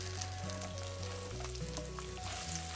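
Cumin seeds sizzle in hot oil with frying onion, a steady soft crackling hiss that runs unbroken the whole time, fairly quiet and close, with no talking.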